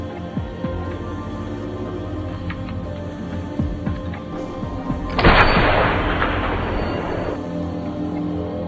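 A single powerful sniper rifle gunshot cracks out midway, followed by a long rumbling echo that fades over a couple of seconds against a low background hum.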